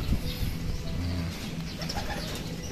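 Racing pigeons arriving at an outdoor training loft coo in low, repeated throaty phrases, close and steady, with faint rustling around them and no talk.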